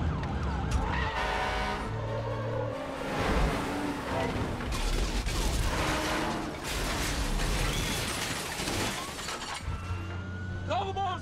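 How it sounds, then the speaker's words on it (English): A fire truck's siren wails while the truck drives through a tense action scene, layered over engine roar and crashing, shattering noise, with voices mixed in. "Driving a fire truck!"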